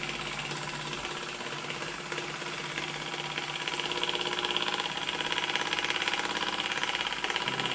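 A small hot, smoking model steam engine runs steadily, giving a continuous busy mechanical clatter with rapid ticking, ratchet-like beats that grow slightly louder partway through.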